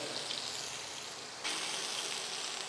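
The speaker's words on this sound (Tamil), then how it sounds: "இப்போ இதே மாதிரி மீடியம் ஹீட்லேயே வச்சு இதை வந்து ஒரு 5 நிமிஷம் நல்லா ஒரு சைடு நல்லா வறுத்துருங்க" Mint chicken sizzles in a pan over medium heat, a steady hissing fry that grows slightly louder partway through and then holds.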